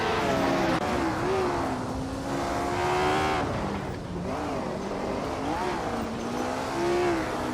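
Race cars in a racing video game roar continuously with engines rising and falling in pitch, a steady loud drone of several cars jostling close together.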